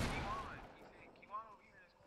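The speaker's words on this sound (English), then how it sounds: "I'm getting sniped." A sniper rifle shot in Fortnite cracks loudly at the start and decays into a rolling echo, followed by faint game sounds and brief voices.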